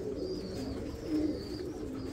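Pigeons coo softly and repeatedly, low throaty calls blending together at close range with no talking.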